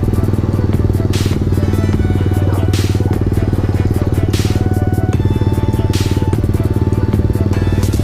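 A Kawasaki KSR motorcycle rolls along with the throttle untouched, its engine droning in a steady buzzing rumble close by. Wind or clatter thumps at regular intervals over the engine sound.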